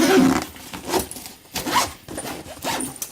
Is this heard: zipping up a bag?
yes